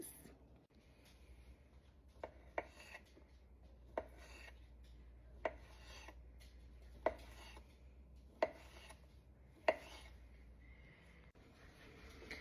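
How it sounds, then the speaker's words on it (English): A knife cuts Cajun-style andouille sausage into small pieces on a board, giving a series of sharp, separate chopping taps at an irregular rhythm, close but fairly quiet over a low background hum. "I'm just gonna cut them up in small pieces"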